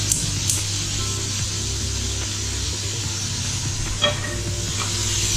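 King prawns sizzle in a frying pan while cooking for a king prawn curry, a steady, close hiss running throughout with a faint utensil clink near the end.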